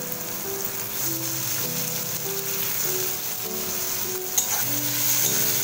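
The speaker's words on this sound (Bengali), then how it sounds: "এবার নাড়তে থাকবো, একটু ভাজা ভাজা করবো যতক্ষণ টমেটোটা একটু গলে যায়" Chopped onion and tomato sizzle loudly and continuously in hot oil, with occasional stirring, and faint steady tones sound in the background.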